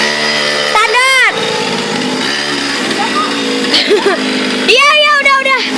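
Close, high-pitched revving from a small mini motorcycle engine, rising in two loud bursts separated by a rough idle, with voices chatting throughout.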